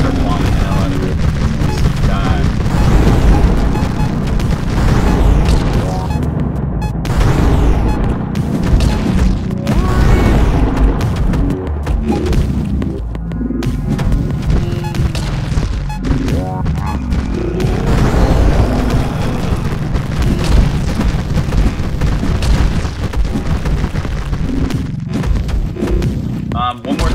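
Bombs going off against a boss in the video game Songbringer, a dense run of booming blasts and crashing impacts over a game soundtrack, loud and continuous for the whole stretch.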